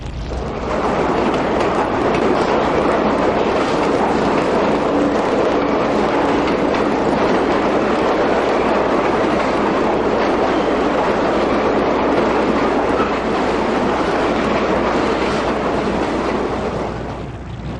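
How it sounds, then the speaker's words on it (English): A New York City subway train roars past close by, a loud sustained rumble with rattling wheels that fills the whole stretch before easing slightly at the end. "We have trains going by."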